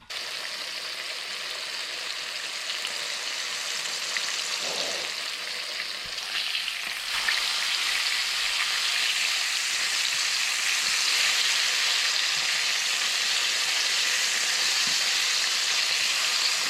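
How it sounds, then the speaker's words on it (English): Fish fillets frying in hot oil after a fishing trip, a steady loud crackling sizzle that holds for the whole stretch with a brief dip partway, no voices. "Good old fish fry, baby."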